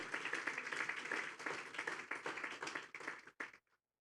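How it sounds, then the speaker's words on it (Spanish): A church congregation applauds the Lord during a sermon, a dense steady wash of many hands clapping for over three seconds before cutting off abruptly into silence. "Puedes levantarle un aplauso al Señor"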